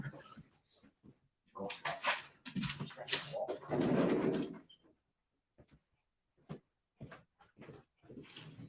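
A pet dog indoors making a run of yelps, whines and short barks that swell into a loud, sustained whimpering outburst, then scattered quieter whines and small clatters as it settles, close by with no talk.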